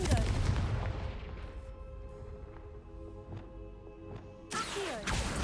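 A Confringo fire spell in the Hogwarts Legacy video game bursts loudly at the start, then several sharp, repeated impact blasts ring out over a droning tonal background before a final loud burst near the end.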